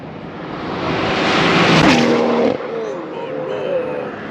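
A BMW B58 stage 3 car roars past at speed, a loud rising rush that peaks and drops abruptly in pitch as it goes by, with a fainter engine tone trailing off afterward.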